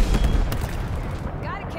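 Gunfire in Halo Infinite, a dense burst of overlapping shots and impacts, loud and continuous across a short moment with a voice partly mixed in.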